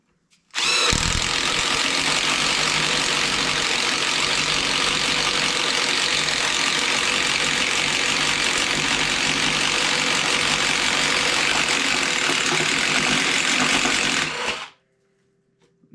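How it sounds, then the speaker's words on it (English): Hart impact driver spinning a paddle bit to bore a 1-inch hole, a loud continuous motor whine and grinding that starts abruptly, holds steady for about fourteen seconds, then cuts off. "let's go ahead and make a really big 1-inch hole with this paddle bit here"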